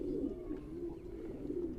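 Pigeons from a breeder's loft coo softly and continuously, a low rolling murmur close by with no talk over it.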